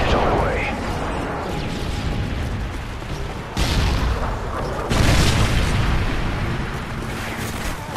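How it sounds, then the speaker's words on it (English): Heavy booming blasts from an airstrike on the Bakaara map in Call of Duty MW3 multiplayer, a dense rumbling barrage with loud bursts near 3.5 and 5 seconds over continuous battle noise. "Friendly airstrike on the way."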